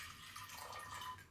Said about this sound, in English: So I'll put some water in this.